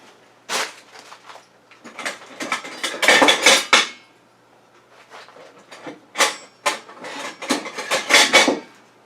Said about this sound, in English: So let me plate up.